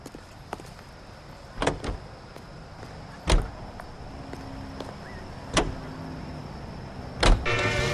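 Car sounds from the video game L.A. Noire: a window motor whirs and several sharp door-like clunks land at intervals over a low steady engine hum, with no one talking.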